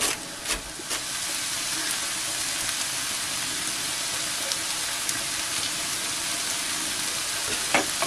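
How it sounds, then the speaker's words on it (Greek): Food sautéing in a pan, a continuous dense sizzle with occasional sharper crackles and clinks, steady and close. "αφήσουμε να τσιγαριστούν καλά"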